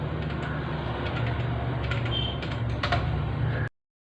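Someone types on a computer keyboard, a steady patter of light key clicks over a low hum that runs for several seconds and then stops abruptly.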